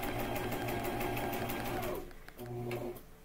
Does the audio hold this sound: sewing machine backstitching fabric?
yes